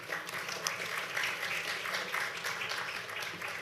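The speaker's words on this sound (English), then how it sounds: "So if you give a round of applause for Maggie and our panelists." Steady applause from a conference audience at a geospatial event, many hands clapping evenly throughout at a moderate, slightly distant level with no pauses.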